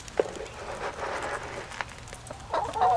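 A Buckeye heritage chicken clucks softly in short, scattered bursts at close range, with light rustling and footstep-like shuffles in the background and a slightly louder clucking call near the end.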